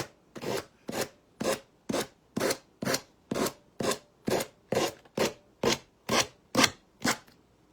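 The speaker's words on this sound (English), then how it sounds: "We're going to get our little sander block. We're going to get this off." A small hand sander block rubs back and forth across a surface in about fourteen even, rasping strokes, each a close, distinct scrape in a steady rhythm with short pauses between.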